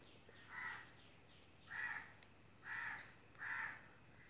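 Crows caw in the background, four separate harsh calls spaced about a second apart, faint and distant over quiet room noise, with no one talking.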